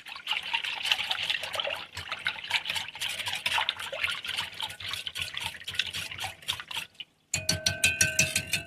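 Milk, about three-quarters of a cup, poured into a dish for a leftover chicken and pasta bake, trickling and splashing steadily for several seconds, with a brief pause and then a brighter, thinner stream near the end.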